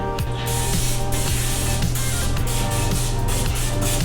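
Spray hissing onto a baking pan while making butterscotch-bourbon lava cakes: one continuous, close spray lasting about four seconds with faint ticking underneath.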